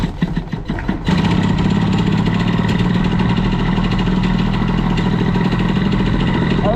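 A moped engine fitted with a Fox Origine BOOST cylinder head is warmed up: a few sputtering pops, then it catches and holds a loud, steady, buzzing rev with no speech.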